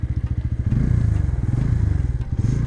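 Bajaj Pulsar N150 motorcycle pulling away with a pillion rider, its engine putting out a loud, steady rhythmic thrum close by, with some clatter as it rolls over rough ground.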